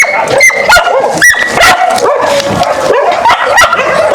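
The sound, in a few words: dog barking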